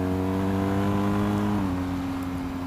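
A motorbike engine hums steadily and close by as it overtakes another vehicle on Danseys Pass, with the pitch dropping slightly partway through, and no talking.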